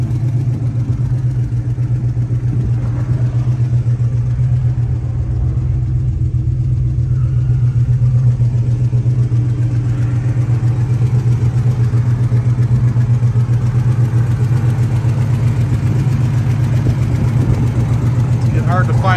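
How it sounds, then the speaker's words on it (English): A 1974 Dodge Dart idles through a full exhaust of master mufflers, a steady, moderately loud low rumble with an even pulse that holds throughout, unbroken and close. "Exhaust, full of master mufflers on it, not too loud."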